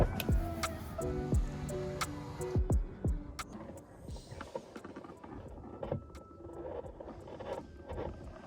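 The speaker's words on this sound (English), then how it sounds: "what you're hearing is basically your motor struggling" A car's power window motor struggling, its strained electric whine humming in uneven bursts, with scattered mechanical clicks and ticks as it labors.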